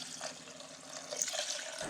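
Water poured into a pressure cooker holding goat head meat with spices, a steady close splashing pour lasting a couple of seconds, with no talk over it.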